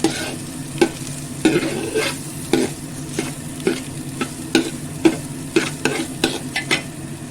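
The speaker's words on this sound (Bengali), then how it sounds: "চালটা ভালো করে ভেজে নেব চাল এর সাথে আমি আদা আর কাঁচা লঙ্কার যে পেস্ট করেছিলাম সেটাও ভালো করে মিশিয়ে নেব" Rice frying in a pan with ginger and green chili paste, a continuous close sizzle broken by regular scraping strokes of a spatula stirring against the pan.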